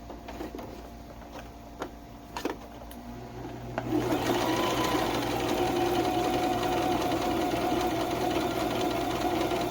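Soft ticks and handling noises give way to a home sewing machine running steadily, stitching fabric with straight and zigzag stitches, a close, continuous mechanical whir for the remaining several seconds.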